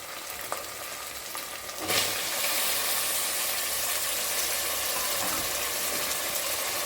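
Chopped tomatoes drop into a pan of sautéed onions for tomato rice, and the quiet frying jumps into a loud, steady sizzle that holds close and continuous, with no voices.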